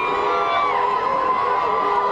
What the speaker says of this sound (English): as you can hear the crowd is chanting Houston